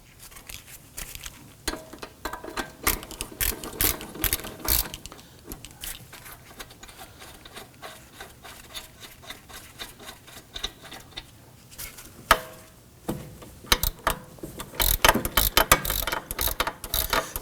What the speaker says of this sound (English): 17mm shallow socket and extension. And loosen our two bolts.